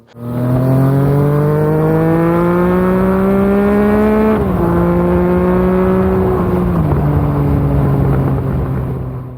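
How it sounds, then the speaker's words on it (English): Triumph Speed 955i motorcycle engine ridden gently, a loud, close, steady engine note that rises slowly, dips briefly and settles lower again, with no talking. "just pootling around very gingerly on my Triumph Speed 955i"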